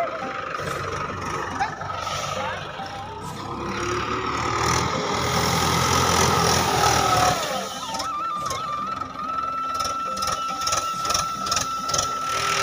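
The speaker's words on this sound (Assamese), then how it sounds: "আৰু ইয়াত ট্ৰেক্টৰ আহি সৰিয়হ মৰণা মাৰি আছে" A tractor threshes mustard in a field, its engine and machinery churning in a steady loud mechanical drone with rattling, ratcheting overtones that shift partway through, and voices are heard faintly in the background.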